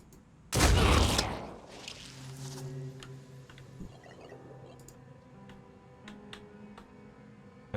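Shotgun blast in the turn-based strategy game Phoenix Point, a single loud booming shot near the start that decays over a second, followed by quieter ticking and mechanical game sounds.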